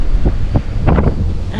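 Strong wind gusting to 27 knots in a bay near Portland roars and buffets against the microphone, a loud, rough rushing that surges and eases in quick bursts.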